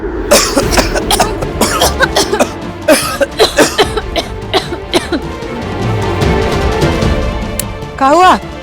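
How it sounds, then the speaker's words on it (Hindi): Two people cough over and over in a mosquito-filled room, dry hacking bursts that come close and loud, with some throat clearing and a short voiced sound near the end. "तुम दोनों इतना खांस खा रहे हो?"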